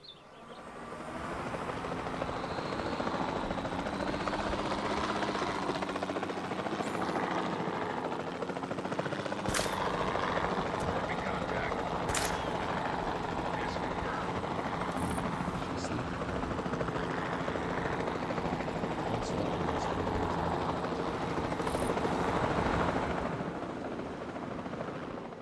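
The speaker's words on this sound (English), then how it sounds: "Where's the helicopter? Come back. Come back, helicopter." Helicopter rotor drone in the video game Jurassic World Evolution 2, a steady whirring hum that persists throughout at moderate level, with occasional brief sharp game effects layered over it.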